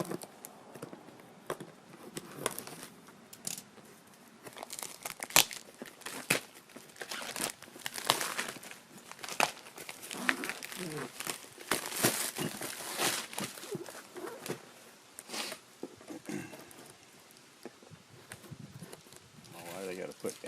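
Plastic packaging crinkles and crackles in repeated bursts while a winch for a 2023 Brute Force 750 is unboxed, the handling sounds close and busy with scattered tearing, and a person speaks at times over it.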